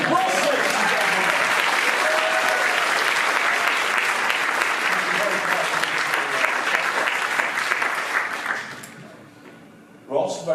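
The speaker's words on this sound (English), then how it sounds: "you're going to give him a round of applause" A live audience at a comedy magic show applauds steadily for several seconds, loud and dense, then fades out near the end while a voice briefly talks.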